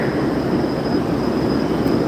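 A train pulling into an underground metro station, a steady loud broadband rumble and roar with a faint high whine, continuous throughout and with no talk.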